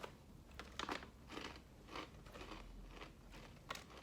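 Several crisp, crunchy bites and chews of a cheese snack like Cheetos, made with Wisconsin cheese, in close succession, quiet and near, with short pauses between each crunch.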